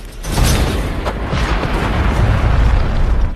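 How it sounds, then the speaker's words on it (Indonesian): A gas station blows up in the zombie film Splitter: a sudden, very loud blast swells into a sustained roaring rumble that fills the whole stretch, then cuts off. "ia pun meledakkan pom bensin untuk membakar makhluk tersebut"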